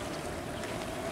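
A radio-controlled model LCM landing craft driven by two electric motors and propellers runs across open water, giving a steady, dense wash of churning and splashing with a faint motor whine throughout, heard alone without talk.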